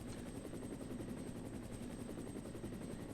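Continuous chopping rotor thrum of a helicopter in the Resident Evil video game, steady and fairly loud with a regular pulsing beat and no voices.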